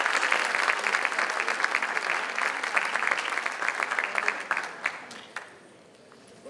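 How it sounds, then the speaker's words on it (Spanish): Audience applause welcoming a speaker to the stage, a dense steady clapping that holds strong for about five seconds, then thins and fades out to near quiet. "recibamos con un fuerte aplauso a Juan Leonardo Negrón"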